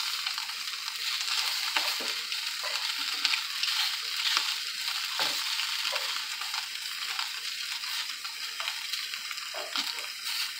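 A pressure-cooked octopus head sears in a hot pan, giving a steady, even sizzle with faint crackles throughout, no talking over it.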